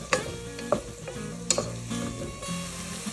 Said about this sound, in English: It'll help pull out some of that moisture and help sweat those onions down a little bit faster.